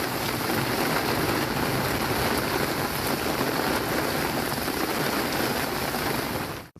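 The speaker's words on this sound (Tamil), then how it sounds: "மலை கிராம பகுதிகளில் காற்று, இடி மின்னலுடன் கனமழை கொட்டியது" Heavy summer rain pours over hill village areas in Tamil Nadu as a dense, steady, loud hiss of falling water that carries on unbroken throughout.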